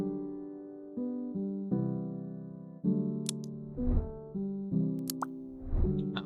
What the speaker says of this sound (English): That room makes a pop sound.